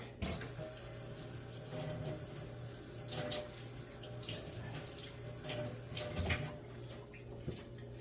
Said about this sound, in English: let me rinse this real quick